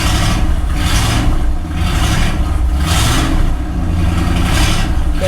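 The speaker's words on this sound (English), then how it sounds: "That thing just fired right up." A 1964 Ford Galaxie engine, newly running after sitting for years with a poor exhaust, idles loud and steady nearby with a rough, slightly pulsing rumble.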